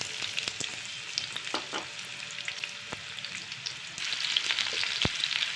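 Chopped onion sautéing in hot oil in a pan, a moderate steady sizzle punctuated by crisp clicks and scrapes of stirring, swelling slightly louder toward the end.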